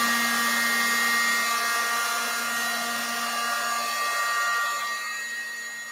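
A hair dryer or heat tool blows steadily on wet paint on an abstract art journal page, a loud continuous whirring hiss with a strong hum, close and alone, easing off slightly toward the end.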